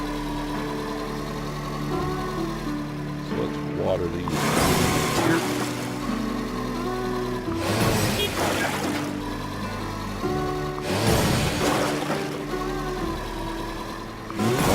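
A tractor engine in the farming video game Farm Together drones steadily, with a low tonal hum and a repeating rhythm, while loud splashy watering bursts come in regularly and a voice speaks briefly.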